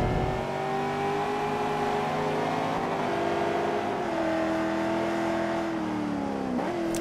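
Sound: Corvette Z06 race cars driving on track

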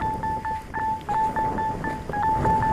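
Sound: mobile phone sounds after leaving airplane mode

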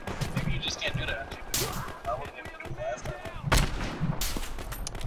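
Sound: sniper rifle gunfire in video game Battlefield Hardline

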